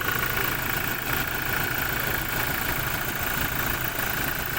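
A 2017 Toyota Innova engine with a newly installed turbo idles, giving a steady, dense mechanical hum and faint whine that stays constant throughout, heard close with no talk.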